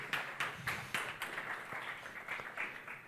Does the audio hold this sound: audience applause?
yes